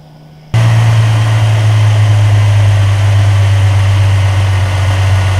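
A 1999 Ford Mustang with a 3.8L V6 cranks and catches after a brief quiet moment, then settles into a loud, steady idle with a deep continuous hum.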